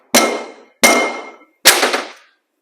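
Three loud, evenly spaced metallic clangs, each ringing out briefly, as a wheel bearing is tapped into place on a 1959 Chrysler during brake work.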